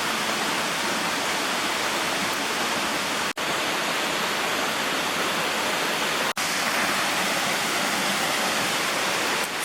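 A New Zealand waterfall roars steadily and loudly from start to finish, a dense broadband rush with no voices over it.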